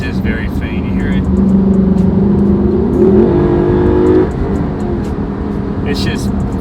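A Lexus LC500 exhaust under acceleration, a low engine note climbing in pitch from inside the cabin, fairly subdued with road noise around it.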